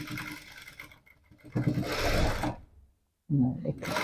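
A sewing machine stitches the middle of a blouse, with a long run of whirring, a brief pause, a second burst, then a gap of silence before it starts again. It sounds close and moderately loud, and a voice may murmur faintly beneath it.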